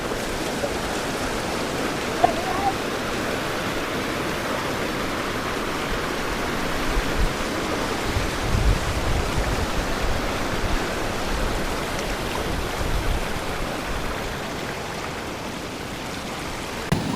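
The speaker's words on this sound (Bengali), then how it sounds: "দেখেন কত সুন্দর ঢেউ" Steady rushing of the Nile River's flowing water with a broad, constant wash, waves churning continuously without pause, fairly loud and close.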